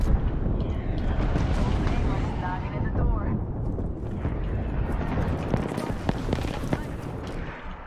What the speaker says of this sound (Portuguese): Tá vindo com bombardeio, cuidado.